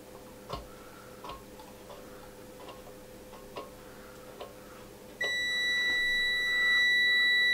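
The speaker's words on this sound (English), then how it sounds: "The meter specifies a continuity beep at 50 ohms." Continuity beep of a Venlab VM-200M or VM-600A multimeter, a steady high electronic tone that switches on after several faint clicks and holds loud and continuous to the end.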